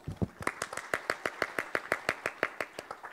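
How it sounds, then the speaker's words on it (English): A conference audience applauds a panel chair with steady, evenly spaced clapping that sounds almost like a single pair of hands, moderately quiet and alone, no talk over it. "Our applause"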